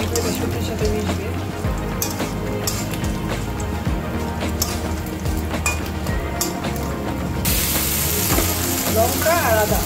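Mixed vegetables sizzle in a pan with panch phoron, crushed lentil powder, chilli and ginger paste, a steady close crackle broken by scraping stirs, with a voice talking over it.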